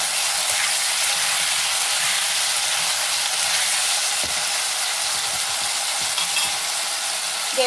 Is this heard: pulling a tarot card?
no